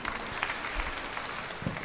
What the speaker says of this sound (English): Small applause.